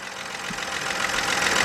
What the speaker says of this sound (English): I hear a nice and quiet engine.